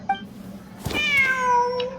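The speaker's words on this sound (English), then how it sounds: "Wait, there it is! The cat!" A cat in the Genshin Impact desert ruins gives a short, clear meow, rising then sliding down in pitch, preceded by a brief faint chirp, close and alone over quiet background hum.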